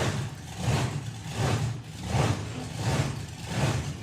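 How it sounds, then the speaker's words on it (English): A nitro-fuelled drag racing engine idles roughly at the NSRA Nostalgia Nationals, its loud, close rumble surging and dipping in a steady rhythm about every second as it hunts for fuel. "It sounds like a methanol engine where it's hunting for fuel"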